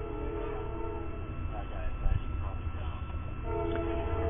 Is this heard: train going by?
yes